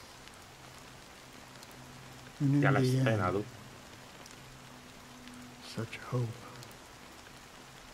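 Rain falls steadily in the Honkai: Star Rail game, a soft continuous hiss beneath two short passages of spoken dialogue.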